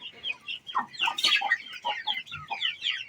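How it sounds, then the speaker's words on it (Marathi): Several chickens clucking in quick, irregular bursts, fairly quiet and close, with no one talking. "इकडे भरपूर कोंबडी"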